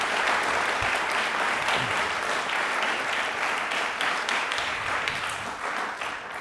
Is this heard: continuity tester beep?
no